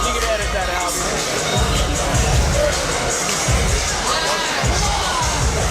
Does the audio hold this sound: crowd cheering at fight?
yes